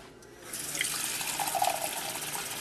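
Water runs steadily from a tap into a container, a small measure poured for an asparagus cocktail, a continuous splashing hiss with no talk.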